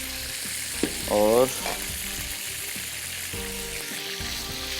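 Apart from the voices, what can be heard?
chicken fries frying in oil in a pan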